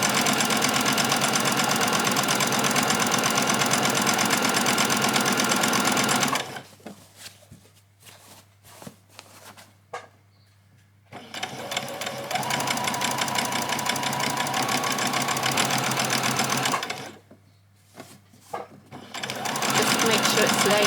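A sewing machine stitches a seam on a child's dress, running steadily close by, then pausing briefly twice before resuming, with a voice talking over parts of it.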